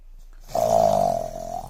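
A toddler imitates a tiger's growl with one sustained, voiced, rumbling roar of about a second. It starts abruptly, stays loud, and fades slightly toward the end, with no other talk in the clip.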